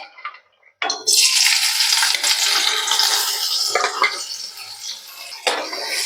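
Chopped onions hit hot oil in a pan with a sudden loud sizzle that continues as a steady frying hiss, broken by the scrape of stirring and no talking.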